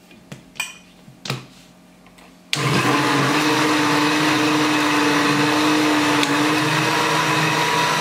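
A kitchen blender kicks on after a few faint clicks and knocks, then whirs steadily and loudly while grinding ingredients for Georgian satsivi, a constant motor drone with no talk.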